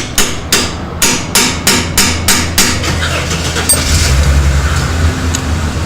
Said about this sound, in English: I'm just going to knock that seal out first with the bush, with the chisel.